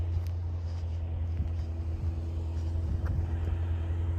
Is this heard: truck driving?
yes